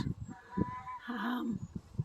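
Adult backyard chickens give soft, faint clucks in short, uneven bursts, with no talking over them.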